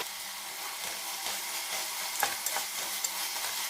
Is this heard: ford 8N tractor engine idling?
no